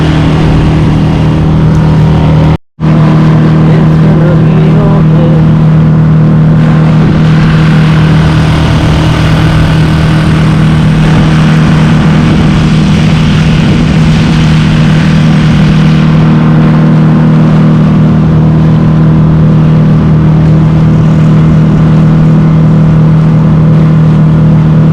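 Inflatable Navigator boat pushed by a 2.5 horsepower outboard motor, a loud, steady droning engine running continuously with a brief dropout near the start, with wind and water rush around it.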